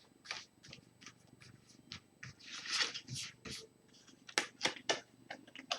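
Soft papery swishes and light shuffling slides of tarot cards being fanned out, in short bursts with a few sharper flicks near the end.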